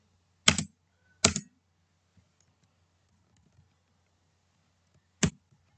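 Three isolated sharp clicks from a computer keyboard while coding, two close together and one after a long pause, in an otherwise quiet room.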